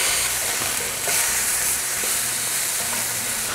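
Chicken pieces and mushrooms sizzle loudly and steadily in a frying pan, a dense, constant crackle that holds through the whole stretch with no voices.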